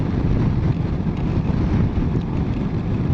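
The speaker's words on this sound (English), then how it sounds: "It's a very windy day and I'm not being blown all over the road." Strong wind buffeting a rider on a 2021 CF Moto MT650 motorcycle on a very windy day, a loud continuous low roar of rushing air and turbulence with no break.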